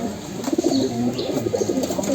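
Colored domestic pigeons cooing in a loft, several soft rolling coos repeating close by, with light background noise and no talk.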